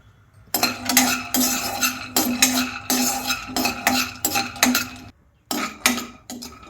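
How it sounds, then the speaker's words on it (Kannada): Peanuts roasting in a pan, rattling and scraping in bursts as a spoon stirs them, with metallic clinks and short pauses between strokes, close and clear. "ಕಡಲೆ ಬೀಜನ ಹುರ್ಕೋತಾ ಇದ್ದೀನಿ"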